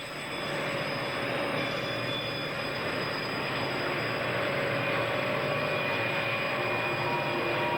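A Southern Pacific train on the Coastline near the Horseshoe Curve north of San Luis Obispo rumbles steadily, a loud continuous roar with faint high wheel squeal throughout.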